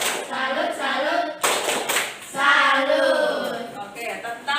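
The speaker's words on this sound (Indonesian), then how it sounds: "tepuk tangan untuk dia" A classroom of students claps for a classmate, the applause mixed with loud, rhythmic group chanting in short bursts.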